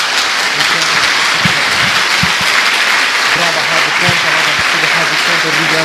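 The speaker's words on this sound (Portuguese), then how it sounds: "Dê uma salva de palmas a Jesus." A church congregation claps in sustained, dense applause during a sermon, an even wash of many hands with voices calling out faintly underneath.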